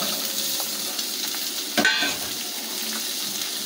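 Taro stalks rubbed with turmeric and salt hit hot oil in a pan, giving a steady close sizzle with a brief louder burst as they go in, then settling back to an even crackle.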